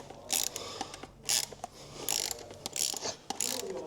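A ratchet works a nut loose on a motorbike, giving several quick runs of crisp, close clicking with short pauses between them.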